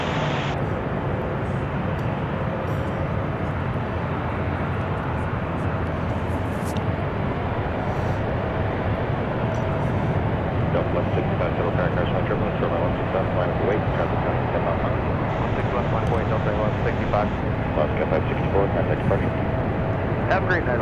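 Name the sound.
Delta passenger jet at Seattle airport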